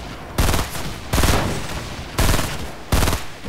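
Loud, close bursts of automatic gunfire in the video game Fortnite, four short volleys separated by brief pauses, each a dense rattle of rapid shots.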